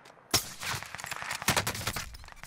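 Gunfire downstairs in Warzone Caldera: a sudden sharp crack, then scattered rattling shots and a second heavy burst, fairly close and loud, with no speech over it.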